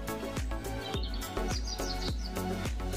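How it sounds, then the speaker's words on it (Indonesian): Birds chirp in the scenery of a Trainz Sim train game route, repeated short tweets over a steady rhythmic background of music or ambience, without talk. "kalian ada disuguhkan suara burung-burung gitu ya"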